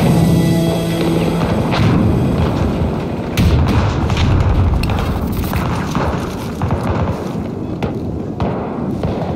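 Explosion in the video game Battlefield 2042 as an objective is destroyed, a loud sustained rumbling blast with booming thuds and debris, a sharper burst near the middle, continuing at high level throughout.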